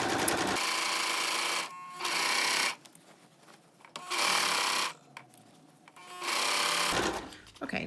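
Sewing machine stitching through layered fabric for a box top, three short bursts of fast mechanical whirring separated by pauses, with a person speaking in the gaps.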